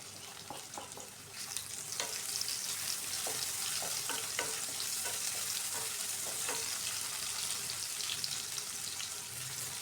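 Garlic and ginger frying in a pan for ginataang tulingan, a hissing sizzle that swells after a quieter start, with scattered crackles and stirring clicks, fairly faint overall.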